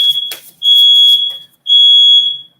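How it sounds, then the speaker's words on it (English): Household smoke alarm that won't stop, sounding two long piercing high-pitched beeps separated by a short gap, very loud and near, with a brief bit of background noise before. "so that is my annoying smoke alarm that won't shut up."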